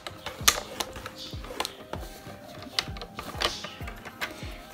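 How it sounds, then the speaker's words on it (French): A paper card being scored with three fold lines, heard as a run of sharp, close tapping and scraping strokes in an irregular rhythm. "je vais marquer trois plis"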